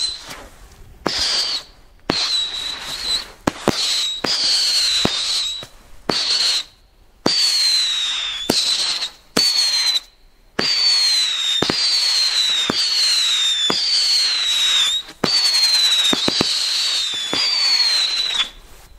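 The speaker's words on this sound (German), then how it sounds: "das große Pfeifkonzert von Keller, angezündet vom Böllercheck" A Keller whistling fireworks battery fires a rapid series of shrill descending whistles, each shot separated by short gaps and ending in crackles, loud and fairly close.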